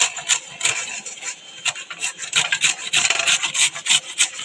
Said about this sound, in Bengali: এবারে আমি আমটাকে এরকম একটা ঘষার মধ্যে ঘষে নিচ্ছি